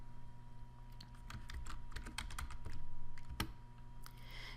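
Typing a name on a computer keyboard, a quick irregular run of close, crisp key clicks with a faint steady hum behind, no talk.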